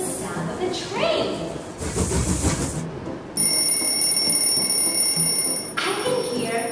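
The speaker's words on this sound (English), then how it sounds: "I can hear the alarm clock." A loud electronic alarm clock rings with a steady, shrill tone for several seconds, following some background noise and brief voices.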